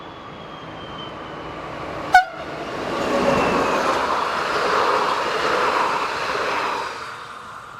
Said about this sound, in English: Here number 67611 powers away from the station stop at Vic-le-Comte.